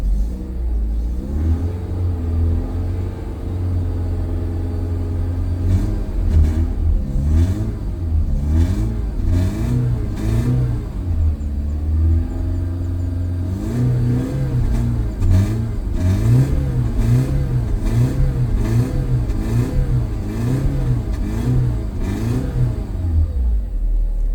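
A BMW E36 with the M43 engine idles unevenly and stumbles from air in the fuel rail, its low rumble rising into repeated throttle blips and revs, close and steady throughout with no talk.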